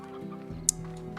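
Briar hens from the game Slime Rancher cluck and burble over a steady droning game soundtrack, with one sharp bright chirp partway through.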